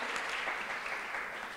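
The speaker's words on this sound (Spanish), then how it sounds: "Despidámoslo con un fuerte aplauso." A university event audience gives a dense, steady round of clapping that fills the whole moment with no break.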